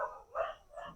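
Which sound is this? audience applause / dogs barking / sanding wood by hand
dogs barking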